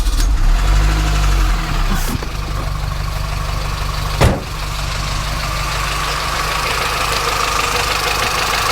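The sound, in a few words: Land Rover engine running, rough sounding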